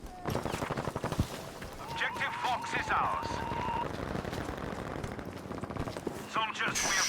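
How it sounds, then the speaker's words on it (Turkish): Rapid bursts of gunfire crackle repeatedly in a Battlefield 5 multiplayer match, some in quick automatic runs, with scattered shots layered over busy game noise throughout. "şuradan silah sesi geldi sanki"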